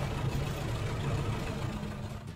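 Toy concrete mixer truck sound, a steady engine-like rumble and idling drone with light clatter, continuous and fairly loud throughout with no talking.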